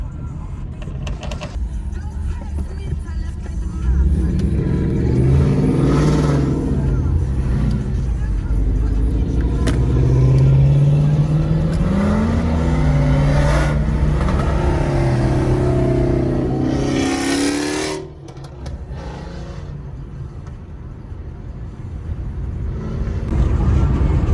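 Loud car engines rev and roar close by, pitch climbing and falling in long sweeps, then drop off before rising again; a voice speaks over them.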